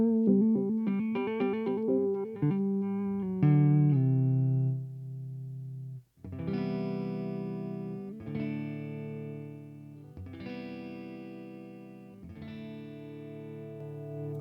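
Gibson Custom Shop Les Paul electric guitar on the neck pickup, played clean with quick picked arpeggios at first, then several ringing strummed chords that sustain and decay, heard alone without talking.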